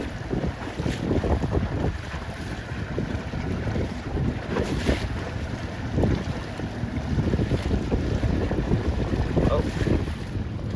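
Steady, loud wind buffeting the microphone while sailing a 29er skiff in open water, with waves and water rushing past the hull underneath.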